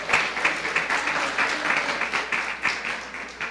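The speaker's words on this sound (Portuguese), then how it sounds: "Dê uma salva de palmas ao Senhor" A church congregation applauding together, a dense, steady burst of clapping that holds loud and even throughout.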